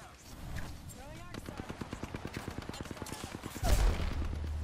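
Rapid automatic gunfire in the video game Apex Legends, a quick run of evenly spaced shots at moderate volume ending in a heavier burst, with faint voices in the background.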